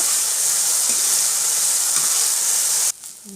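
Turkey berries (sundakkai) sauté in a pan with a steady, close sizzling hiss that holds evenly for about three seconds, then cuts off abruptly to a quiet room.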